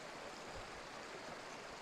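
A mountain stream near Cedar Breaks monument flows steadily, giving a faint, even rushing hiss of water with no voices and no distinct splashes.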